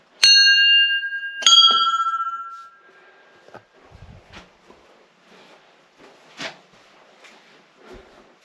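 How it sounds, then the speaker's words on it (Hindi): Many bells hanging around a high mountain temple of Kartik Swami on the road to Kedarnath, two bright metallic strikes ringing out and fading away, then softer scattered clinks and rustling nearby. "मंदिर के किनारे इतनी सारी घंटियां लगी हैं"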